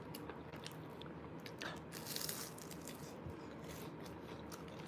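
Someone bites into and chews a flaky, pastry-like dumpling up close, with quiet crisp crunches and soft chewing scattered over a few seconds.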